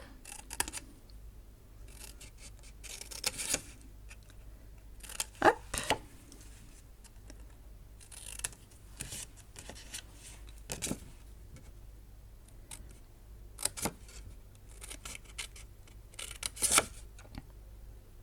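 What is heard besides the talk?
small scissors cutting out stamped paper shapes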